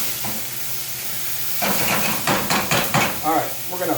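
Carrots, celery and onions drop into a hot pot for salmon chowder and hiss loudly, a steady sizzle that swells suddenly partway through and keeps crackling and spitting up close, with a voice speaking over it.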